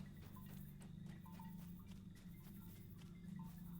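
Horse hooves clip-clop steadily in Lord of the Rings Online as a character rides, a quiet rhythmic patter under a low ambient game drone.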